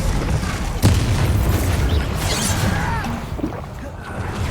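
A Bombarda spell goes off in a Harry Potter video game with a single sharp boom, followed by a rumbling blast tail and scattered combat noise. A voice talks over the fight.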